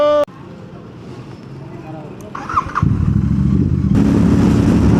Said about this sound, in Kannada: ಬೈಕು ಎಕ್ಸಾಸ್ಟಿಗೂ ಸೌಂಡು ಇದೆ, ಸ್ಪೀಡು ಇದೆ